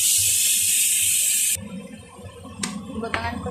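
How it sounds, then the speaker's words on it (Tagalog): Water poured into a hot frying pan where food was being fried, a loud steady hiss and splash for over a second, then quieter sizzling with a few clatters close by. "Ibutangan ko na siya tubig"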